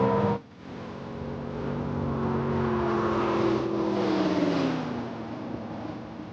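A Ferrari SF90 XX and a Koenigsegg Regera drag racing: a loud, steady engine roar climbing in pitch as the cars accelerate hard, sustained for several seconds without talk.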